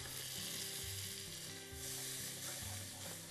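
Onion and leek dropped into a soup pot with a little oil, sizzling softly and evenly, with faint stirring scrapes and low hums underneath; quiet and close, no talking.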